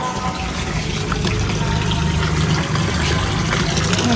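Water from a motor pump pours steadily into a tank, a loud, continuous close rush and splash with a low pump hum beneath it.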